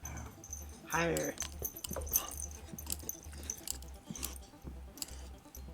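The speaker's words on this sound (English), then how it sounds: "Dog!" A dog whimpers and chews close by in a room, with wet mouth sounds and soft whines over a steady low rhythmic hum, while a person talks briefly.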